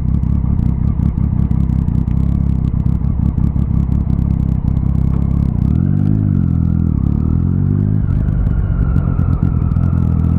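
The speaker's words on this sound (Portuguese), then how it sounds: "Olha que confusão no trânsito," Busy city street traffic with cars and motorcycles, loud and close, a constant engine rumble with clattering and one vehicle revving and accelerating midway, no talk.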